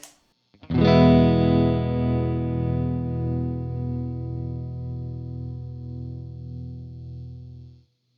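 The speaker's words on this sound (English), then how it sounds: "And here's the modulated vibrato signal." A guitar plays through a modulated vibrato effect via a Tweed Deluxe or Vox AC15 amp, one sustained chord ringing for several seconds with a slow pitch wobble, loud and alone, fading at the end.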